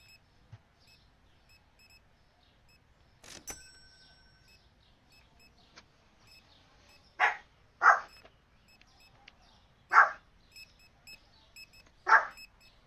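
A dog named Cricket barking at a cat, four sharp single barks spaced a couple of seconds apart in a quiet room, with a few electronic beeps and a click earlier on.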